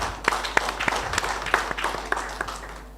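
Audience applause at a savings and credit co-operative society's annual general meeting, honouring the honorary secretary Nelly: a short burst of scattered clapping from a seated crowd, uneven sharp claps over a steady patter.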